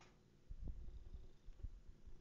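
A house cat purrs softly and close, a low rumbling rhythm with faint breathy pulses, quiet and alone.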